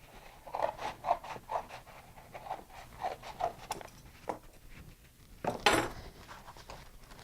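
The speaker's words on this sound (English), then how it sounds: "I can cut off the lid to this egg carton" Scissors snip through the lid of a cardboard egg carton being prepared as a seed-starting tray, in a steady series of close, crisp cuts, ending with a louder crunching tear as the lid comes free.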